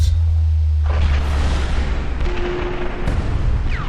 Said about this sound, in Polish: Piękny wybuch.